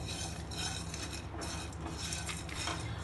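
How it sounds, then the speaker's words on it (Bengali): Whole spices being dry roasted in a kadai over a gas flame, stirred with a metal spoon that scrapes and clinks steadily against the pan, close and continuous with no voice. "এই মশলাগুলো আমি ড্রাই রোস্ট করে নেব"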